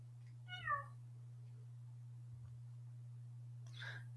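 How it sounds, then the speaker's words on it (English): A house cat gives one short, clear meow near the start, then stays quiet over a steady low electrical hum, with a faint rustle at the end. "Which cat do I hear?"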